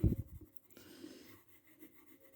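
Soft, faint scratching of a pencil colouring in a triangle on a geometry drawing on squared paper, a brief louder stroke at the start, then steady quiet rubbing.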